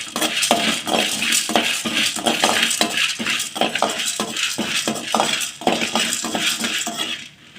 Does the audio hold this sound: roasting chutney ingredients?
yes